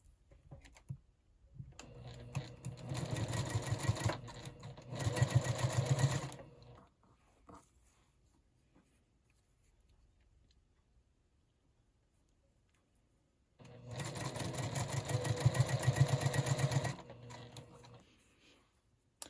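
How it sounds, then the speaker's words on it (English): A sewing machine stitches small quilt pieces into mini four-patch units, running in two steady bursts of several seconds each with a quiet pause between them, close up and with no talking. "pair these up and sew them together into 4 little mini 4-patch units"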